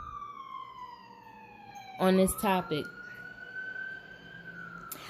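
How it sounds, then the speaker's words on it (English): A wailing emergency siren sweeps steadily in pitch throughout, with a brief burst of a person talking partway through over it. "While the sirens go off, let me pull it back in"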